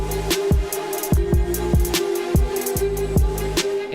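A collaborative producer-made beat plays with a steady drum pattern added: punchy kicks and crisp hi-hats in a regular groove over a sustained synth tone, loud and close.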